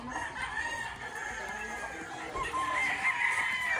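A Golden Boy rooster crows in a long, strained call over a busy farmyard backdrop, loud and close, with other fowl clucking around it.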